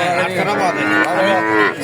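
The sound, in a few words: cow mooing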